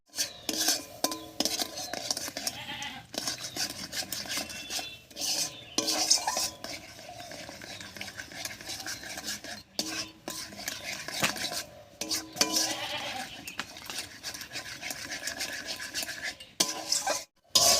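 A spoon stirs thickened orange jelly in a metal pan while sugar syrup is added a little at a time, giving steady scraping and clinking strokes with brief pauses, close and fairly loud.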